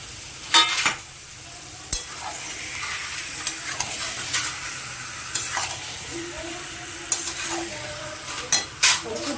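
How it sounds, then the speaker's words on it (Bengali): Eggs frying with potatoes in a pan for a Bengali egg curry, a steady soft sizzle under repeated spatula scrapes and clinks, with a few louder stirring knocks spread across the clip. "আলু দিয়ে কষানো হয়ে গেছে, এর মধ্যে আমি ডিমগুলো দিয়ে দিই।"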